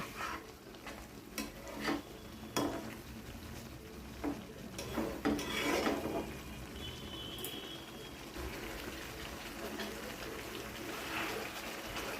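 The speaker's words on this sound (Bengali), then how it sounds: "মশলাটার সাথে মাছগুলো ভালো করে কষিয়ে নেব।" Hilsa fish sizzle in a pan of mustard-poppy masala while being stirred. The scraping strokes come in irregular bursts over a constant frying hiss that fades toward a softer simmer.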